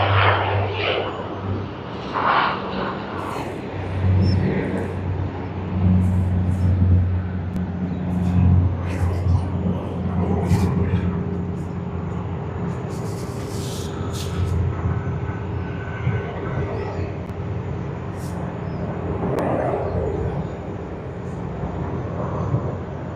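Virgin Australia Boeing 737-800 at Sydney Airport, a steady broad jet roar with low rumble that holds throughout, fairly distant and continuous with no talk.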